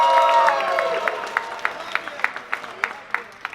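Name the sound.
comic con audience applause for Thanos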